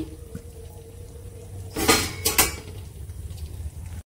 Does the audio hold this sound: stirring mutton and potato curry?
yes